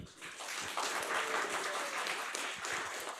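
Audience applause breaks out as a presenter is called to the stage at a university game jam, a steady, dense wash of clapping that swells after the first moment and holds evenly throughout.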